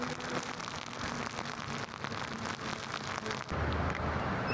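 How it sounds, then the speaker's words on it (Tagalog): Rain driven by strong wind falls hard and steadily, a thick roaring wash of drops with gusts buffeting the microphone, swelling louder near the end; nobody speaks. "Ayan na ulan."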